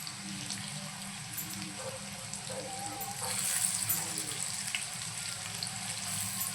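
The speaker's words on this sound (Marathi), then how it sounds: "आता आपण सुरणाची कापं सोडूया तेलामध्ये।" Slices of elephant foot yam (suran) sizzle as they go into hot oil for a Malvani-style fry, a steady crackling hiss that grows slightly louder midway, with faint background noise.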